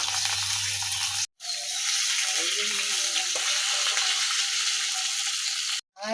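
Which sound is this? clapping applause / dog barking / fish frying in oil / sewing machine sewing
fish frying in oil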